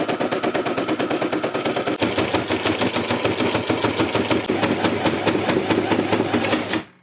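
A sewing machine stitches a DIY retro record bag, a rapid, steady mechanical clatter running close and loud for about seven seconds, picking up slightly in pace after a brief shift, then stopping abruptly.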